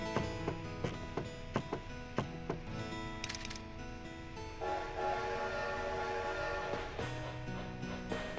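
A train in the Animal Crossing video game rolls along with rhythmic clacking pulses and a bright whistle-like tone, followed by steady tonal music-like chimes, fairly quiet overall.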